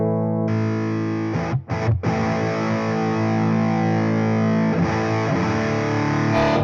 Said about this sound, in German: Das ist aber schon eher Distortion.